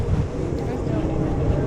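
Strong evening wind buffeting a cruise ship deck in New Zealand, a steady loud roar and rumble across the microphone for a brief moment.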